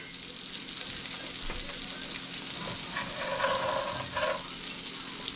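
Smothered potatoes sizzling in a frying pan while a spoon stirs them, a steady close crackle with a few scraping clinks of the spoon against the pan.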